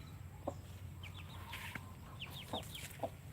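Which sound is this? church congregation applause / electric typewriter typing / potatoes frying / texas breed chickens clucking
texas breed chickens clucking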